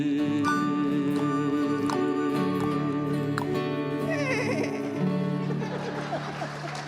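A fiddle improvises a horse imitation at a live Salty Dawgs concert, bowed strings sliding into whinny-like wavering glides and quick trills over sustained band tones, loud and continuous.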